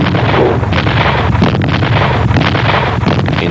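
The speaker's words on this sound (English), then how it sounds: "the pounding of artillery and the pounding of mortar shells could effect" Artillery and mortar shells pounding during the Nigerian–Biafran civil war, a continuous loud roar of blasts and rumble blended with heavy wind-like noise, with no voices.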